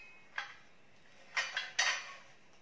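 Light metallic clinks and clatters as thin metal idli plates from a rice cooker are handled, one tap followed by a quick cluster of three clanks.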